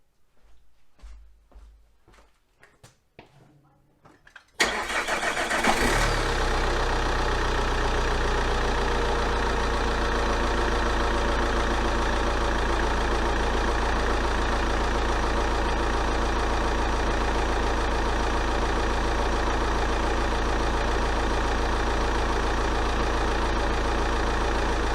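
Vauxhall Vectra SRI engine cranks and fires up after a few quiet seconds, then settles into a loud, steady idle that drones on unbroken, recorded close up.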